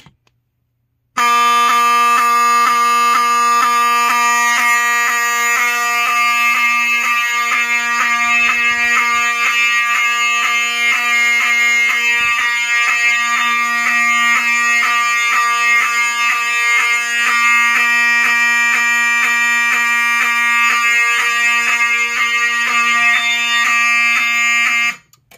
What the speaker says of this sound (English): Nice, amazing looking fire alarm.